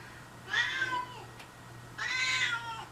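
A house cat meows twice, two drawn-out, fairly loud calls about a second apart over a faint steady hum, with no talking.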